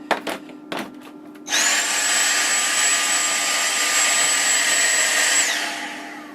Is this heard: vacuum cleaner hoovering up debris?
yes